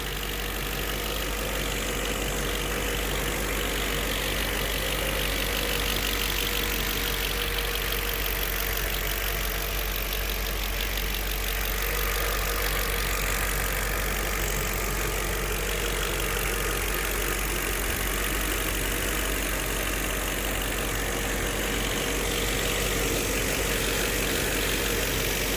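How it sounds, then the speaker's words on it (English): A 2006 Audi A8 with 113k miles and a K&N air filter idles steadily and close up for the whole stretch, a constant engine hum with no talk. "Let me let you hear the engine."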